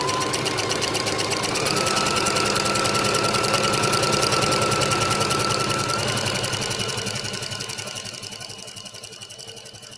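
A sewing machine runs fast and steadily while stitching the seam of a standard pillowcase, then eases off and slows toward the end.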